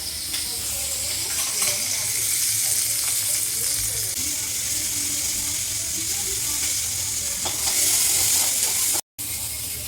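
Chopped capsicum sizzles in a hot pan, a loud, continuous frying hiss with occasional stirring scrapes and a brief dropout near the end.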